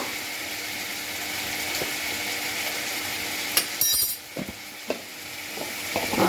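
Methi chicken frying in a pan while Kashmiri red chili powder is stirred in: a low steady sizzle, then a few clinks and scrapes of a spoon against the pan, close and quiet, with no talking.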